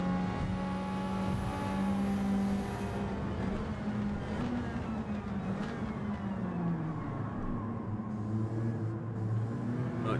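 A wide-bodied race car in a racing video game holds a loud, sustained engine drone, its pitch stepping through gear changes as it accelerates and eases off, with no voices.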